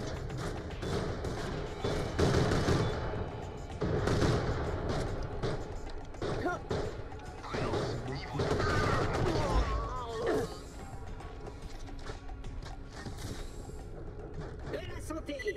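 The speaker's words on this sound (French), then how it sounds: "Les balles du sniper elles partent super vite." Sniper rifle shots from the video game Borderlands The Pre-Sequel, fired in bursts while zoomed in, ring out as several loud cracks among chaotic game noise, with a player talking over them.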